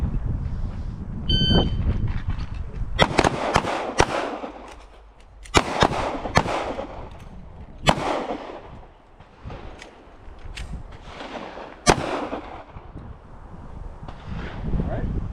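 Pistol shots crack out in a CCW skill-builder drill at a Hawaii Rifle Association range: a loud, irregular string of close and farther gunfire with wind buffeting the microphone and voices talking between bursts.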